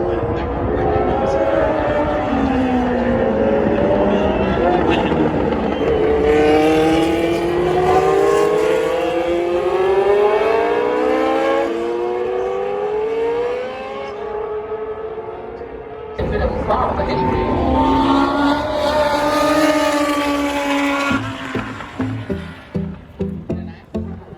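Formula 1 race cars passing at the hot corner of the 2019 Austin Grand Prix, loud high-pitched engine wails sweeping down in pitch as cars fly by in sequence, with crowd noise behind.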